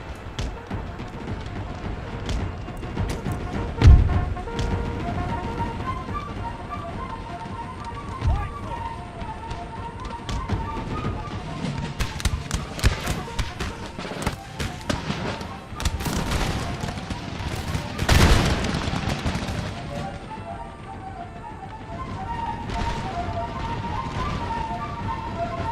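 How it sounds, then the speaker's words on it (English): Artillery bombardment in Empire: Total War, a dense, chaotic wash of battle noise with repeated booming impacts and volley-like crackles, two louder blasts standing out, under ongoing voice. "Artillery is just raining down on these chaotic"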